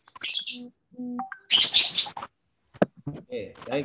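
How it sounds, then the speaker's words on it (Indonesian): Short bright bird chirps and tweets come in scattered bursts, near and fairly loud, with brief spoken words in between. "Nah, ada suara burung."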